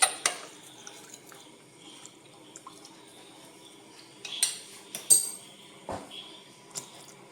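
A spoon stirs a custard powder and milk mixture in a pan with soft scraping and scattered light clinks of metal against the pan. The sounds come close and fairly quiet, with no talk.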